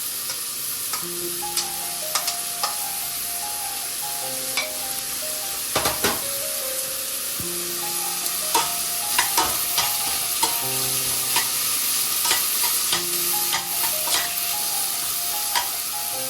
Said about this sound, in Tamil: இப்போ வெங்காயம் போட்டு வதக்குவோம்.